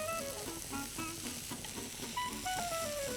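Mushrooms, onions and peppers sizzle steadily in a pan for a vegetable quesadilla filling, with soft scraping stirs and faint clinks over the constant close frying hiss.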